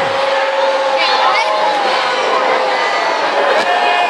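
An arena crowd at a men's college volleyball match, Hawaii Rainbow Warriors against UCSB Gauchos, reacts loudly to a replay, a sustained wash of murmuring, shouting and cheering under a commentator's voice.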